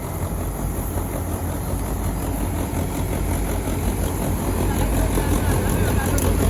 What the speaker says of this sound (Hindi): 60 हॉर्स पावर का ट्रैक्टर है भाई, DI 55